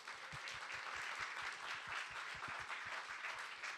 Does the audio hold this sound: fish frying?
no